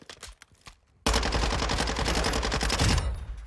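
Rapid submachine gun fire in Warzone 2: after a few scattered quieter shots, a loud, sustained burst of close automatic fire rattles on for about two seconds before cutting off.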